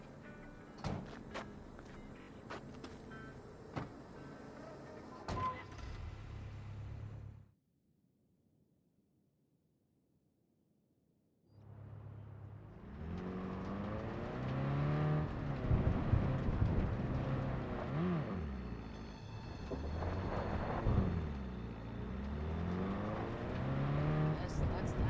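A car drives in the video game Cyberpunk 2077, with an engine rumbling and road noise under voices. A few seconds of near silence interrupt it before the engine sound returns louder.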